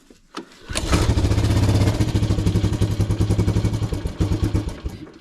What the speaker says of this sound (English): Oh, fired one pull, but she didn't stay running.